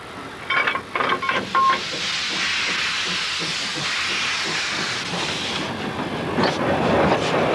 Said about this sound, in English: they run their own train up and down it.